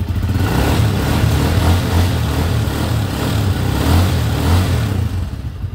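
A motorcycle engine runs steadily just after a carburetor repair, a loud close rumble with a low pulsing idle that swells into a couple of gentle revs and settles again, with no voices over it.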